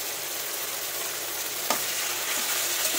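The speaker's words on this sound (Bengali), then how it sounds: "সিমগুলো ভাজা ভাজা হয়ে এসেছে, এর মধ্যে কি দেবো, আবার হাফ একটা টমেটো দেবো" Broad beans frying with half a tomato in a pan give a steady, close, dense sizzle, with a brief clatter partway through and no voices.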